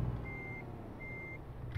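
Lorry reversing alarm in Euro Truck Simulator 2, two steady electronic beeps separated by a pause, sounding over a constant low engine rumble.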